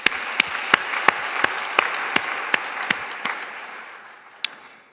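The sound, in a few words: church congregation applauding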